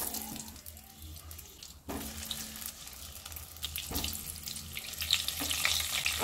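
Chicken pieces coated in spice masala go into hot oil one at a time, giving a steady crackling sizzle broken by a few sharp splashes and clatters as each piece drops in.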